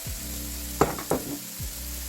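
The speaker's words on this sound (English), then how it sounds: "let that shrimp get cooked all the way through" Shrimp frying with onion, garlic and sesame oil in a pan, a steady sizzle with two sharper stirring scrapes near the middle.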